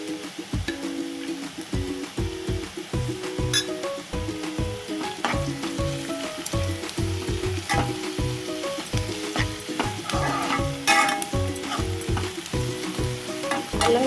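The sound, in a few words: ginger garlic paste frying in a pan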